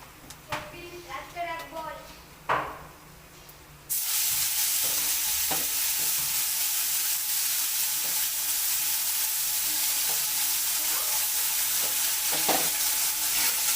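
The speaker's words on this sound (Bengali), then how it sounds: "পেঁয়াজটাকে হালকা হালকা করে একটু ভেজে নেব" Onion paste frying in hot oil tempered with cumin and whole garam masala for a pomfret curry: after a few seconds of talk and clatter, a loud, bright, continuous sizzle bursts in and holds steady to the end.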